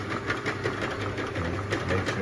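A bottle clamping machine runs with its conveyor going, giving a steady close mechanical whir and rapid rhythmic clatter that continues evenly throughout, with no voices over it.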